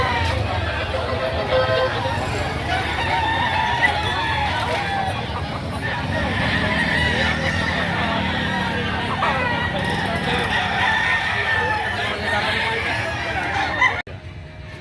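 Roosters crow and chickens cluck amid a busy, noisy crowd at a Saturday poultry market in Lipa, Batangas, with people talking and a car horn sounding in the background.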